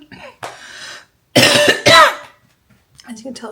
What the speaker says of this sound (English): As you can tell, I've still got this cough going.